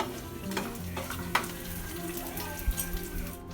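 Curry leaves sizzle in hot oil for cherupayar thoran, a quiet steady frying hiss with a few small pops and clinks, close by and low in level.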